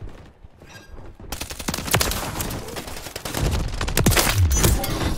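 Rapid gunfire from a UMP submachine gun in Call of Duty: Modern Warfare, loud bursts of automatic shots and sharp cracks building in density over a few seconds, with close game sound effects mixed in.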